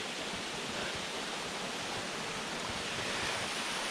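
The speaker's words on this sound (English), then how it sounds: "We made it to the waterfall." Steady, even roar of a waterfall at a Virginia highland park, a continuous broadband rush of falling water with no breaks and no voices.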